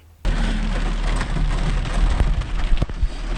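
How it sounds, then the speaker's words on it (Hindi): Steady rain hiss on a hilltop at Kasar Devi Temple, Almora, begins abruptly after a brief quiet moment and continues throughout, with low rumbling underneath and a few sharper drops or knocks near the end. "बारिश स्टार्ट हो गई है और सुबह से हो रही है"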